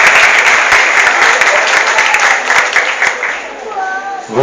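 A church congregation claps together at a ceremony installing new ministers of the Eucharist, loud, dense applause that gradually thins out toward the end, where a voice begins speaking.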